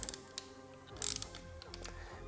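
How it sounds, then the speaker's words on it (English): A torque wrench preset to 8 foot-pounds tightens fasteners on a 2023+ Suzuki GSX-8S/8R water pump cover, giving quiet ratcheting clicks and a brief burst of rapid ticks up close. "I'm going to grab a torque wrench."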